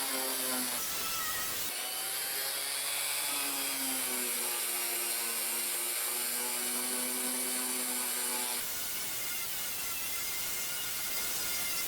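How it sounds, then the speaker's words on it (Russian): An electric sander works a homemade wooden joinery piece with a steady mechanical whine that dips and wavers in pitch as the load changes. The machine runs continuously between short breaks near the start and end. "В основном шлифую шлифмашинкой"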